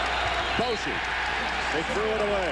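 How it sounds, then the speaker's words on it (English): Basketball arena crowd cheering at the Irwin Center during a close Kansas at Texas game, a loud continuous roar filling the clip while a commentator talks over it. "the crowd up and cheering here at the Irwin Center"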